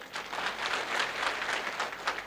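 Men in an audience at a student felicitation event clap together, a sustained dense patter of many hands with slight swells, moderately loud and free of speech throughout.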